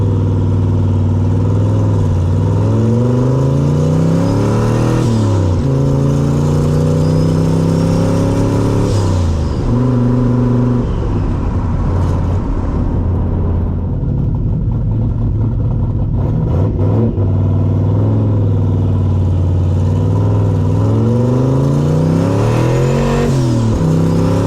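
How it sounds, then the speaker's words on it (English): A turbocharged small-block Chevy in a C3 Corvette pulls under load while driving, its loud, close engine note rising and falling through the gears, with a rough, uneven stretch midway where the tone breaks up before climbing again. "it was definitely breaking up and sputtering pretty damn bad"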